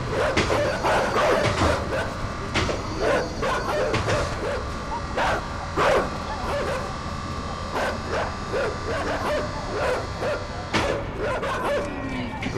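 Dogs barking in the video game INSIDE on PS4, repeated sharp barks and yips in quick irregular bursts over a steady game backdrop, fairly loud and close.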